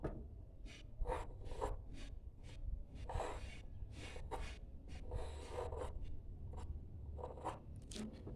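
A pencil scratches across paper while drawing circles for a geometry tangency construction, a quiet, steady run of short scratchy strokes close by.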